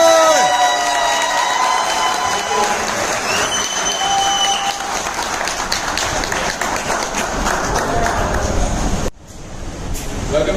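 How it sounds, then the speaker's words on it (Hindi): A large audience claps loudly and cheers to welcome a doctor onto the stage at a training event. The applause is dense and sustained for about nine seconds, then cuts off abruptly as the noise drops. "जोरदार ताली होनी चाहिए।"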